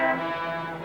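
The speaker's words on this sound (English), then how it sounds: "What are you honking the horn for?" A single sustained car horn blast in a film noir scene: a steady, buzzy, brassy tone held for under a second at moderate loudness.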